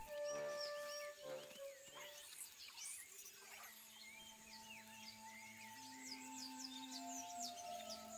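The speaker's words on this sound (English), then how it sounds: "The sound of panicked arthropods running from danger can be heard throughout the leaf litter, and the ant birds are circling overhead." Ant birds call and fleeing arthropods skitter through leaf litter in the Empires of the Undergrowth ant colony game, with a mix of chirps, tweets and squeaky trills over a soft bed of ambience and a few held tones.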